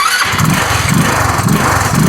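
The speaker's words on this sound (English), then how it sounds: "and turn on your scooter." A Chinese scooter engine fires up after its battery is replaced, the key turned on for injection; a loud, steady idle with a rapid low putter runs continuously and close by.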